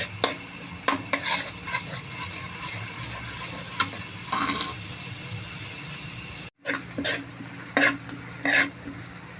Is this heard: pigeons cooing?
no